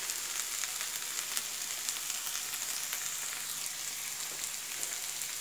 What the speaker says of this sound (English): I'm going to add some of the butter.